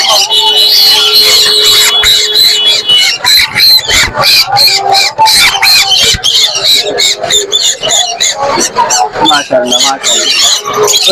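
Loud, dense chirping and squawking from many small birds fills the space at the Mirpur bird market, with people talking over the constant chatter.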